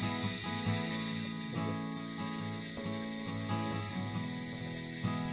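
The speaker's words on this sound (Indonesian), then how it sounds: "dengan ultrasonik ini kotoran-kotoran, sisa kotoran yang tadi masih ada di dalam itu bisa terangkat semua" An ultrasonic cleaner hums steadily with a lid closed, washing medical instruments, a constant mechanical drone with faint rhythmic rattling throughout.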